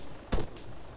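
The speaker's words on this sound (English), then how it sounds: "Now these shots I'm hearing, they sound to be fairly close." A single close gunshot in the military shooter game Arma 3, a sharp loud burst standing out briefly above a steady low background with no talk.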